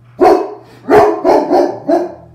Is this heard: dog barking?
yes